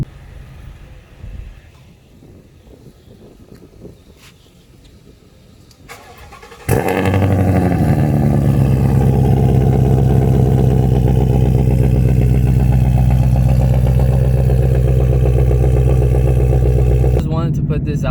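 After a few seconds of quiet talk, a Ford Mustang GT with an aftermarket exhaust cranks and fires up abruptly, then settles into a loud, deep, steady idle rumble that fills the rest of the clip.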